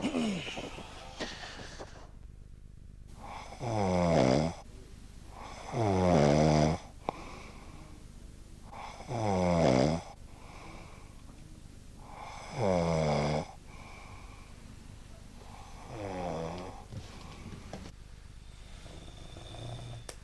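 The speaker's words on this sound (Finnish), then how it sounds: "Taasko se kuorsas?" A person snoring in slow, regular cycles, with about six loud rasping snores separated by quieter breathing pauses, close up and with no talk.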